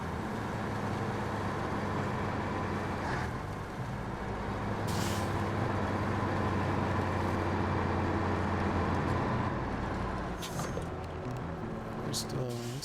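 A heavy truck engine in SnowRunner labors steadily uphill on a snowy grade, a low droning rumble that holds for the full stretch, with brief hissing bursts and a voice talking over it.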